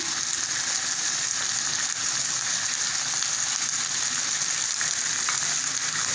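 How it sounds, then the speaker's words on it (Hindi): Steady crackling sizzle of onions frying in a hot pan, continuous and close, with no voices. "इसको हम भून रहे हैं। यहाँ पर मैं प्याज डाल दूँगी।"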